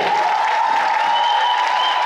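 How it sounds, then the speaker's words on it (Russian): Applause from a comedy contest audience at a KVN university cup show, a steady dense wash of clapping heard loud and continuous, with a faint sustained tone running beneath it. "друзья, ваши аплодисменты"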